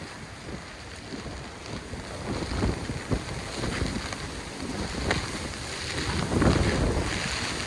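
Strong storm wind buffets the microphone on a seafront at night in Lazarevskoye, a steady roaring rush with louder gusts and surf-like swells building toward the end, no voices.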